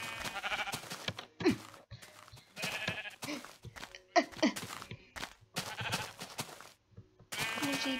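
Minecraft sheep giving a series of short, shaky bleats separated by brief gaps and game thuds, near and moderately loud.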